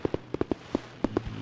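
Fourth of July fireworks bursting in a rapid, irregular string of sharp cracks and pops, about a dozen in quick succession, moderately distant, with no voices over them.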